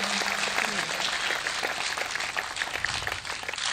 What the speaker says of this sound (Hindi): बस्ती हो तो एक बार बजा दीजिए जरा जोरदार तालियां